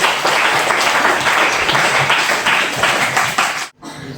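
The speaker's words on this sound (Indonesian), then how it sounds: "Tepuk tangan dulu" Audience applause at an oral exam session, dense steady hand clapping from many people lasting several seconds before stopping abruptly.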